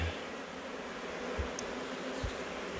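Bees buzzing in the rafter bays of a barn, a faint, steady hum of many insects with a couple of soft knocks, no talking.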